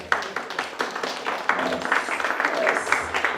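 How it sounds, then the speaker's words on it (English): Crowd applause with many hands clapping at once, a steady patter that swells slightly, over faint room murmur. "Let's clap for that."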